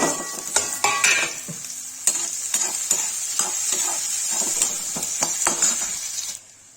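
Onions frying with red masala in a pan during egg curry cooking, a bright, continuous close sizzle broken by repeated clicks and scrapes of a spoon against the pan, fading out at the end.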